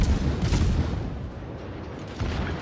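Heavy naval gunfire from the battleship Yamato in a naval combat video game, booming rumbles rolling continuously with a renewed blast near the end, loud and dense throughout.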